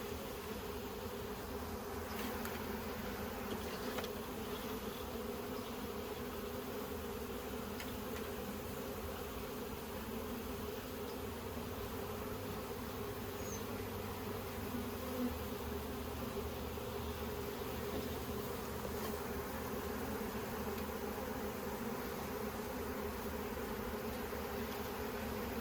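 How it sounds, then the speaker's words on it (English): A dense mass of honeybees from a swarm hums in a steady, even drone while being shaken into a swarm trap, the buzzing constant and fairly soft throughout with no voices. "then I'm going to shake all these excess bees in there."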